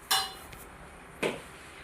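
A plate and cutlery handled in a home kitchen give two brief clinks about a second apart, close and fairly quiet, with no talking.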